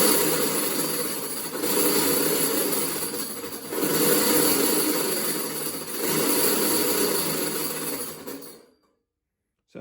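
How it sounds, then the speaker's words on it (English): An electric kiddy car motor, run in DC mode on a VESC controller, clatters and whirs loudly and continuously for about eight and a half seconds with a slight rising and falling pulse, then cuts off abruptly into silence. "It's quite clattery at the moment, the motor."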